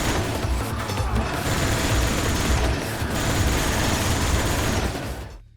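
Dense, continuous rattling minigun fire in Resident Evil 5 with a thin, tinny metallic edge, loud and steady for several seconds before cutting off abruptly.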